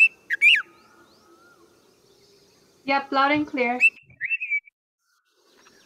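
Invasive birds on Maui give short whistled chirps, then a burst of rapid stacked call notes and a few rising whistles, separated by quiet gaps, with a person speaking briefly at the end.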